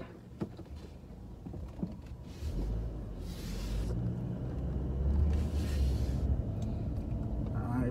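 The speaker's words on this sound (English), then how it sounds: "Now, we're going to go ahead and drive." A 2012 Chevrolet Malibu LT V6 pulls away and drives, its low engine rumble and road noise building steadily from inside the cabin.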